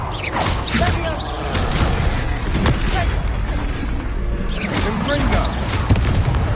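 Confringo blasting spell in a wizard video game, booming explosive bursts and crashing impacts amid clattering effects, with voices shouting between blasts.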